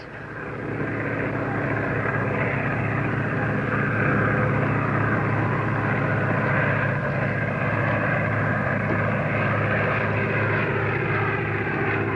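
A crop-duster propeller airplane drones steadily at close range, a constant buzzing roar with no pauses or voices.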